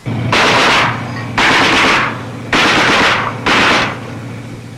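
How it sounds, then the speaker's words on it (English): Heavy .50 caliber machine guns on armored personnel carriers fire at a mined road in four sustained loud, close bursts of rapid automatic fire, each lasting about a second with short gaps between. "the APCs turn their big 50s on the heavily mined road ahead"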